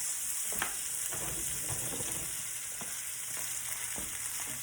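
Seafood for Cajun alfredo pasta fries in a pan with a constant close, loud sizzle, broken by occasional crackles and stirring clicks.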